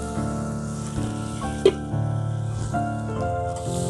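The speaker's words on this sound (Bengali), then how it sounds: "মাঝে মাঝে ঢাকনাটা উঁচু করে আমি নেড়ে ভেজে নেব।" Cauliflower fries in a pan, its lid lifted now and then for stirring, while a chicken and cauliflower curry is prepared; a loud, continuous sizzle with one sharp metallic clank and soft stirring scrapes.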